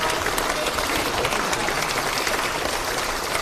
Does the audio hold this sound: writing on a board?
no